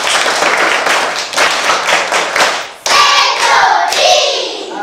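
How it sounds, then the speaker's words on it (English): A group of children clap together in a classroom fruit-naming lesson, a dense run of close, loud hand claps that breaks briefly and resumes, with children's voices and cheering rising over the later claps. "Clap for her!"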